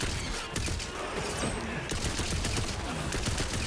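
Ruby's Spite gun in Tiny Tina's Wonderlands firing rapidly at an obelisk, a dense, continuous rattle of quick shots with crashing impacts, loud throughout.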